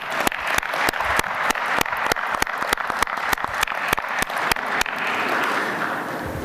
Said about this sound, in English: let's give Councilman Wyatt a big round of applause